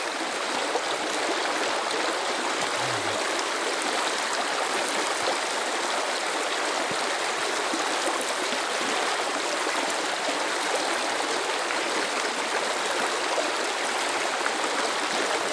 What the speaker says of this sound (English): The water is quite peaty here, but it's fast flowing, and that's what you want.